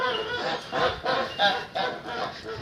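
Geese honk in a steady series of nasal calls while grazing, close by, with several birds overlapping and no one talking.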